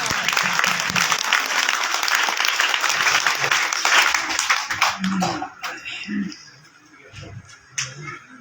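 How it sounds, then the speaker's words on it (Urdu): Full, dense applause from a crowd gathered at a Quranic speech competition, loud and continuous for several seconds before thinning out into scattered claps as a voice takes over. "تالیاں ہو جائے بھرپور تالیاں"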